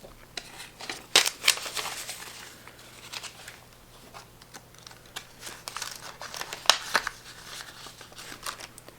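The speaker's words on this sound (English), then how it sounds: "So I'm going to pull out my 2 20s." Paper cash bills rustle and crinkle as two twenties are drawn from a budget envelope, a series of close, soft crackles and brief flicks with quieter gaps between.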